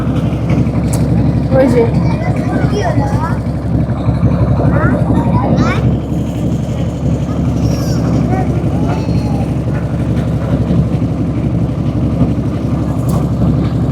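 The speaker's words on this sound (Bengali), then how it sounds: "আজকে ট্রলার দিয়ে আমরা সবাই ঘুরতেছি নদীর মাঝখানে।" Trawler boat's engine chugging steadily as it carries a group across the middle of a river, a constant low droning hum heard throughout beneath frequent nearby chatter and voices.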